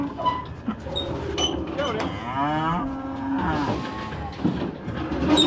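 Cattle moo loudly and close by during weighing on a farm, a long drawn-out low call with rising harmonics in the middle, amid creaks of handling gear and occasional voices.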